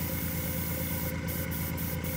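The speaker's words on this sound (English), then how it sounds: "So now we're going to spray the black" Black spray paint hisses from a can in a steady, close, even spray, with a few short pauses near the end as the nozzle lets up between bursts.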